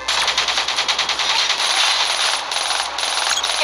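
Minigun firing in Call of Duty Black Ops 3, a loud continuous rapid burst of rattling shots with a whirring spin, briefly dipping before resuming.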